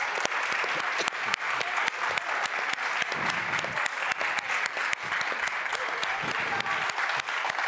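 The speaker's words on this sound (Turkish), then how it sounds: "Hadi alalım Emel'i alkışlarla gel" A television studio audience applauds steadily for several seconds, a dense, even clatter of clapping that carries on alone without a break.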